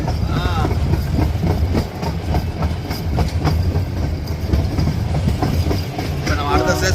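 A passenger train rolling through the Gir forest, wheels clattering over rail joints in a steady rhythmic clickety-clack under a continuous rumble, heard from inside the carriage.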